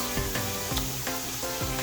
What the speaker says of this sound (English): And then I'm going to be frying my tin tomatoes.